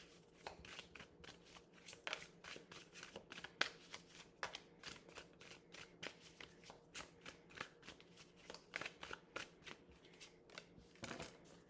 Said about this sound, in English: Give me, I don't know, 3 more cards, Spirit.